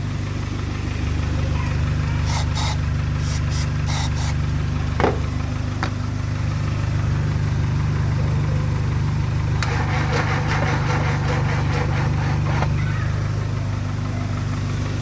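A Mk2 Volkswagen Golf engine idles roughly and stumbles, holding a steady low rumble with brief irregular catches and faint metallic ticks, heard up close with no speech.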